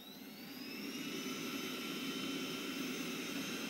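A Roborock S6 MaxV robot vacuum runs on normal suction with carpet boost switched on, giving a steady close whirring hiss that ramps up slightly in the first second and then holds constant.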